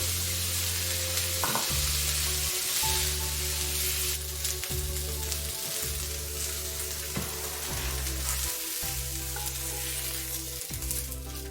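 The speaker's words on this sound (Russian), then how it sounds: "На одной стороне лучок поджарился, переворачиваем на другую." Steady sizzling and crackling of onion frying in a hot pan, continuous and fairly close, with occasional soft clinks.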